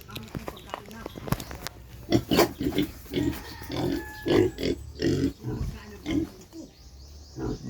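Pig grunting on a farm, a series of short low grunts in bursts that come close and fairly loud, mixed with people talking.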